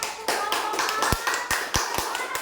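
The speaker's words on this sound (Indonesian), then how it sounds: "Tepuk tangan" Schoolchildren in a classroom clap for a group of classmates, loud and close, with rhythmic, unified beats like a chanted clapping pattern over a busy bed of voices.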